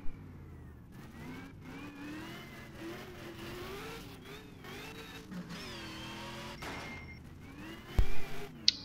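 A V8 race car engine in the rFactor racing game drones continuously onboard, its pitch rising and falling through gear changes and throttle shifts, with a brief sharp burst near the end.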